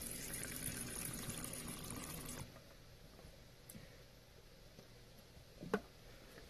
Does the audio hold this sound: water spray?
yes